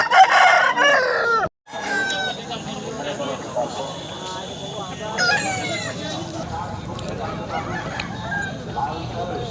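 A rooster crows repeatedly at a busy weekly poultry market in rural Purulia, loud and close. Buyers and sellers talk and haggle around it, and hens cluck in the background.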